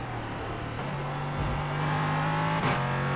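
A sports car engine roars steadily in the iRacing sim at Fuji, its tone holding, dipping and climbing with gear changes and throttle over a few seconds, loud and continuous, with a brief sharp shift near the end.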